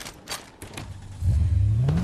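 A car engine in the Fortnite video game revs up in the second half, rising steadily in pitch and growing louder, after a quieter stretch of faint clatter and scraping.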